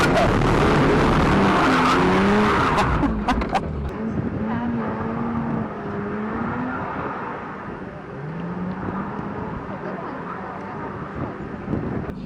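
Tyres squeal and skid as a Metro 6R4 replica drifts, engine revving loudly and wind buffeting the microphone, with voices talking over the noise.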